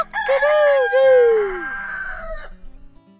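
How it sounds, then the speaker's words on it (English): A rooster's loud, close cock-a-doodle-doo crows once, its strained call rising and then falling away over roughly two seconds before trailing off into quiet. "The rooster's job is to wake everyone up in the morning. Cock-a-doodle-doo!"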